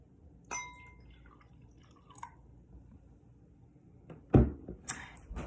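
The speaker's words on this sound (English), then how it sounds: "we start by filling our glasses with 1 part of water" Water poured into a drinking glass for a lava lamp experiment, heard as a few faint drips and glassy clinks with a louder splash near the end, alone in a quiet room.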